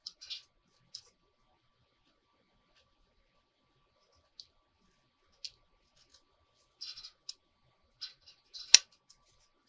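Scissors snipping through paper pieces and book-page scraps for a craft project, a sparse run of short, crisp snips and clicks spread out with quiet pauses between, the last cut loudest.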